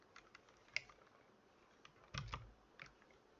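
A few scattered computer keyboard key clicks, quiet and sparse, with a small cluster of taps near the end and no speech.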